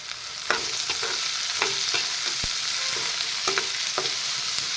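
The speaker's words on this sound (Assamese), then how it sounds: "পেষ্টখিনি এনেদৰে লৰাই দি দিলোঁ" Spice paste with turmeric and salt stirred and frying in a pan for brinjal curry, a steady close sizzle broken by repeated scraping strokes of the spoon, no talking.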